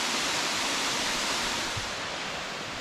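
The waterfall at Bluff Falls in Burrowa-Pine Mountain National Park roars as a dense, steady broadband rush, loud and unbroken throughout, with no voices.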